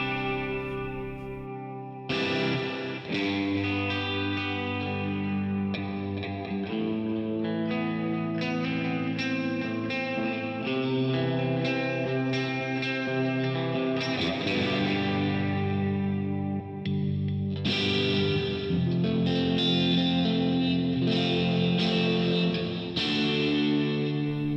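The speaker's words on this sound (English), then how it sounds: "So let's throw on some modulated reverb here, from the Kemper, and a little bit of delay from the Kemper." Electric guitar through a Kemper profiler into a Two Notes Torpedo cab, with modulated reverb and delay, playing sustained chords and melodic lines with shimmering, chorused ambience and trailing echoes, loud and continuous with no talking.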